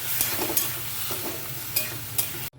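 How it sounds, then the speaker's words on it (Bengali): Rice and ginger paste tipped into gram leaves (chola shak) cooking in a pan, giving a loud, continuous sizzle with a few sharp scraping clinks before the sound cuts off abruptly. "এবার এই এটা ঢেলে দেবো শাকের মধ্যে"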